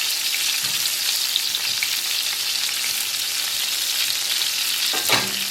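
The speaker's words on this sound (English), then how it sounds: "I'm going to stir and saute this for a while" Onion and potatoes sizzle steadily in a frying pan for Lyonnaise potatoes, a continuous bright crackle with a few soft scrapes of stirring and a louder scrape near the end.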